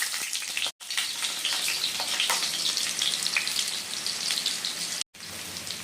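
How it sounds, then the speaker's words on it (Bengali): Potatoes frying in hot oil in a wok, a dense, continuous crackling sizzle heard up close and fairly loud, broken by two brief drops to near silence, with no voices. "এবং তেল গরম হলেই আমি আলুগুলো এর মধ্যে ভেজে নেব এই তেলে"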